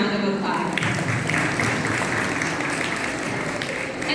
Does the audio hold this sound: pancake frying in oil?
no